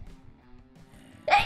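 A single sharp sneeze bursts out near the end, loud and close, after a stretch of quiet low murmuring.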